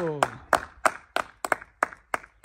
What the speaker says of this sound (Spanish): Un aplauso, don Fatino. Aplauso.